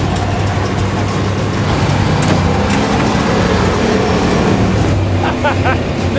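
A 1985 Suburban built up as a bandit-style technical runs with a loud, steady engine roar and rushing drive noise, heard close and continuous with no clear gear changes.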